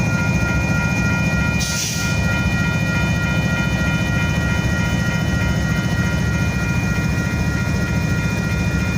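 A train rumbles past steadily between Sampson and York Street in Houston, a loud continuous roar with sustained horn-like tones and a brief hiss partway through.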